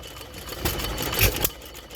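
A Fairbanks Morse headless, open-crank hit-and-miss stationary petrol engine drives a Lister water pump at an outdoor show, giving two sharp firing bursts over a steady mechanical clatter close by.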